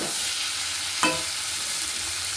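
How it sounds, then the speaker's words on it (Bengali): Pointed gourd curry sautéing in a pan with Gobindobhog rice, a steady close sizzle under one short stir-scrape near the middle, no voices. "ভালো মতো কষিয়ে নেব।"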